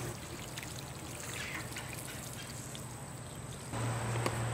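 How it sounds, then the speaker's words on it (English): Water poured onto the soil of a DIY pallet herb garden, a steady trickling, splashing flow heard close up on its own, growing a little louder near the end. "let's give it some water. Also help rinse the soil off the front."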